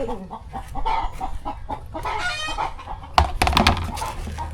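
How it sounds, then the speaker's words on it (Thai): Several chickens cluck and chatter nearby in quick, irregular bursts while being fed, with scattered pecking taps and rustling near the end. "เอาอาหารให้ไก่กิน"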